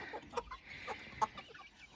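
Young pullets, among them Rhode Island Reds, settle into a new chicken run with a few soft, scattered clucks and short calls, faint and close, spaced irregularly over quiet background.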